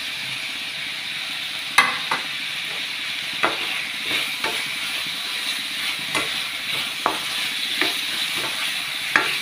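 Steamed carrots tossed into a pan with salted butter and stirred: a continuous frying hiss broken by repeated sharp scraping clicks of a utensil against the pan, close and moderately loud, with no speech.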